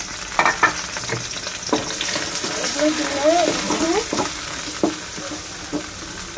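Garlic, onion and bay leaf fry in hot oil with cloves and cinnamon, a steady sizzle with frequent stirring scrapes, while a person talks over the cooking.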